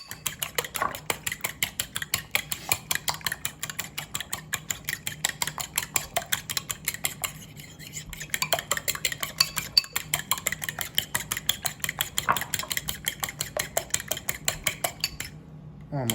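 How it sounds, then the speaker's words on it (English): Eggs are beaten with a fork or whisk in a bowl, a fast, steady rhythm of metallic clicks against the side that runs throughout without pause, close and fairly loud with no talking. "We're gonna beat the eggs until we see no more egg white separated."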